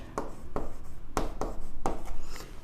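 A pen scratches out a maths solution by hand on paper in distinct strokes roughly every half second, close and clear, with no talking.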